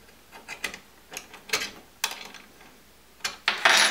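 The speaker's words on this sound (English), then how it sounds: "Let's tighten it down now." Nut being tightened on a bottle cutter, heard as a series of close metallic clicks and ratcheting scrapes in irregular short bursts, alone with no talk.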